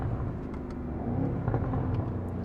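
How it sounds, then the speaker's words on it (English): A BMW M550i G30 with a full exhaust and OEM downpipes rumbles on overrun, a loud, steady low drone heard from inside the car with faint crackles, and no talking. "Ooh, a lot of overrun, wow."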